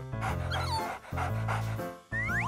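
A dog barks and whimpers in a bathing scene, several short yelps and whines in quick bursts with brief pauses, close and fairly loud.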